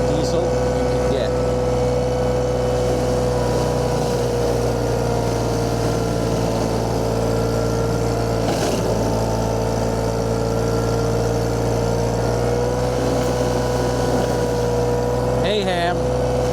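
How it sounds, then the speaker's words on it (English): A VMENG 25 horsepower mulcher powered by a 3-cylinder Kubota diesel runs loud and steady, shredding trees with a constant heavy engine drone and churning grind, plus a brief surge near the end. "25 horsepower mulcher, 25 horsepower D11 or D1703. The largest 3-cylinder Kubota high torque diesel you can get."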